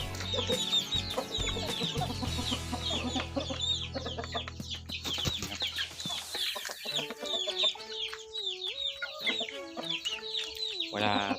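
A mother hen clucks softly and repeatedly on a chicken farm amid a busy backdrop of chirping birds and farmyard noise, fairly faint and steady throughout.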